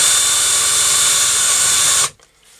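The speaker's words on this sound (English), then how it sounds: "And to get inside, you use a countersink bit or a drill." Loud, steady high-pitched whine of a drill or countersink bit working inside a motorcycle throttle part on a hard tail bobber, running for about two seconds before stopping abruptly.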